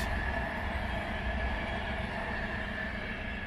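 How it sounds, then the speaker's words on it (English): A high-speed Virgin passenger train rumbles past close by in a steady, loud roar with a high whine above the low rumble, continuous for a few seconds. "one of those high-speed trains, the Virgin Express."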